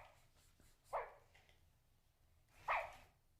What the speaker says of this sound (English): Oh, now he barks.